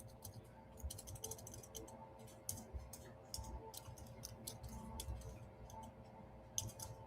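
Quiet, close keyboard typing as a web link is entered, with irregular bursts of light clicking keystrokes and short pauses.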